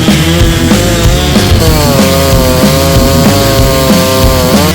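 A Stihl 036 chainsaw engine runs loud and steady close by, its high buzzing whine holding a constant pitch with slight wavering throughout.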